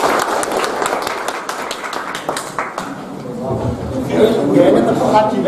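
Group clapping during an Islamic teacher-training session, a crowd of hands clapping loudly at first, then giving way to people talking and murmuring as the applause fades.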